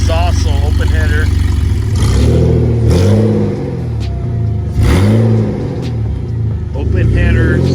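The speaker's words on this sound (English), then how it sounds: "There's no exhaust, so open header." A BMW E46 engine runs with open headers, no exhaust and gutted stock catalytic converters. It makes a loud, raw, close-up harmonic drone that swells and dips as the revs rise and fall repeatedly.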